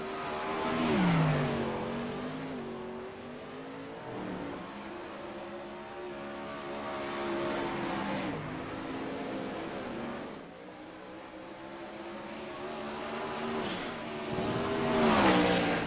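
Race car engines roar in an iRacing sim race, with several loud passes rising and falling in pitch as the cars rev, shift and sweep by, with no voices over the engine noise.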